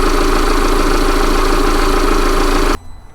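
A 2015 Jeep Cherokee engine idles steadily with a loud, even hum and no voices, then cuts off abruptly near the end, leaving near-silence.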